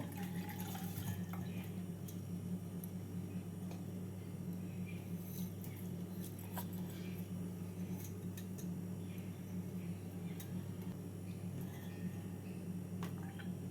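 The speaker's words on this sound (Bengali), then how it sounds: "ভিজিয়ে রাখা চালটার থেকে জল ঝরিয়ে চালটাকে শুকিয়ে নেব" Water trickling and dripping steadily as soaked rice drains for a white chicken and milk pulao, a continuous soft wash over a low steady hum, with no talking.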